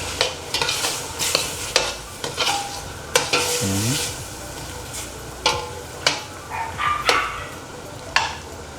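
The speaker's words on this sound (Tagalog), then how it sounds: "So, yun yung mag-toast dun sa garlic at ginger natin. Then, mix lang natin siya." Garlic and ginger toasting in hot oil for Bicol Express, with repeated scraping strokes of a spatula against the pan over a steady sizzle, close and fairly loud.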